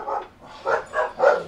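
Puppies bark in four distinct, moderately loud yaps at an uneven rhythm, close by in a quiet indoor room with no talk over them.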